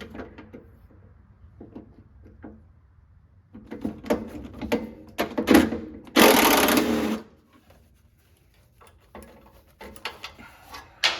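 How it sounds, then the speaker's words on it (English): Fasteners being removed from a C4 Corvette during performance modifications, heard as a series of close mechanical clicks and rattles with a loud, broadband burst of air-tool whirring lasting about a second in the middle. "Fasteners are coming out nice and easy, so that's good."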